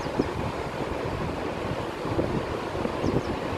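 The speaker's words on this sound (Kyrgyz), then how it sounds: "Нарын дарыясы кеңеш айылына барчу негизги суу суунун булагы ушул жер." The Naryn River in Kyrgyzstan flows at the source that feeds a village, a steady broadband rush of water mixed with wind buffeting the microphone, continuous and fairly loud with no talking.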